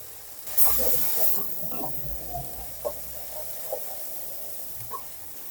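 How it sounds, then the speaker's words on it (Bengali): Spice paste fries in oil for a hilsa and turnip curry, opening with a loud hissing burst that settles into a soft steady sizzle with occasional small pops and faint background voice. "মশলাটা একটু কষিয়ে নিচ্ছি"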